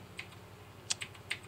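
Computer keyboard keys tapped a few times in quick succession, soft close clicks over a faint background hum, with no talking.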